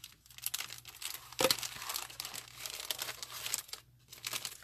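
Plastic wrapping and tape on a package crinkle and tear as it is unwrapped, with steady rustling throughout and a sharper rip about a third of the way in.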